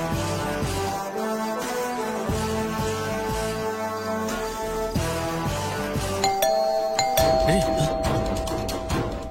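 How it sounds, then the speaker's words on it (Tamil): A doorbell rings out with a clear ding-dong chime over background music and people talking, the tones standing out near the end. "காலிங் பெல் சவுண்ட் கேக்குதுடா."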